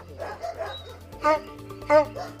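A dog at a farm in a frontline village barks twice, short sharp yaps standing out near the microphone after a person speaks briefly at the start.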